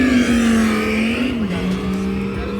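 A deep, rumbling Mercedes-Benz 6.3 engine exhaust drones loudly nearby, its pitch dipping slightly midway as the revs settle.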